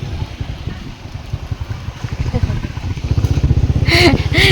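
A motorcycle rides close behind, its engine putting out a steady low pulsing drone that builds louder toward the end, while a voice briefly speaks over it.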